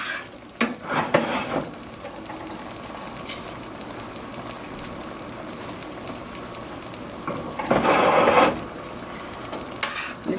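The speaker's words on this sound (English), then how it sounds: "And now I'm going to add my pasta." Cooked pasta dropped into a pan of sauce for a vegan scallops dish, sizzling steadily while a utensil scrapes and clatters against the pan in a few loud bursts of stirring, with no talk.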